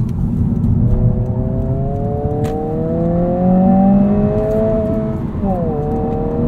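A 2022 Honda Civic Si engine in sport mode with active rev matching revs steadily upward, then drops and climbs again on a blipped shift, with road and wind noise underneath.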